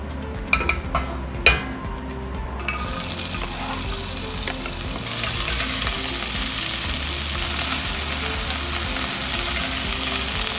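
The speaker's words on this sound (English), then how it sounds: "Let's start stir frying these." A loud, steady sizzle of zucchini stir-frying in a hot pan starts after a few light clinks and continues unbroken to the end.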